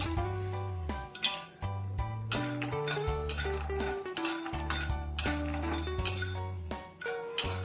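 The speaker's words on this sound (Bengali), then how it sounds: "কড়াইতে এখন আমি দিয়ে দিচ্ছি কিছু কাঁচা বাদাম। এগুলো আমি শুকনো অবস্থায় ভেজে নেব।" Raw peanuts dry-roasted in a wok, clinking and rattling against the metal as they are stirred, with repeated scraping clinks over steady background music.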